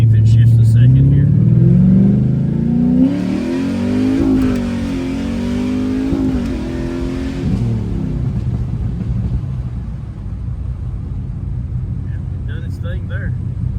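Chevrolet S10 pickup with an LSX engine accelerating hard, a loud rumbling exhaust rising in pitch and then settling as the transmission shifts, continuing to drone steadily afterward, with brief talk at the start and end.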